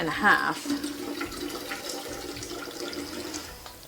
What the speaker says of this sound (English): pour most of the liquid off into this other jar